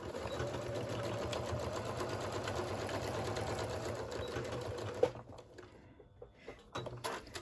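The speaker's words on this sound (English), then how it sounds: "now we're gonna stitch the lining" A sewing machine stitches the lining of a round rice bag, a steady, close, rhythmic hum lasting about five seconds, then a clack and quieter handling sounds.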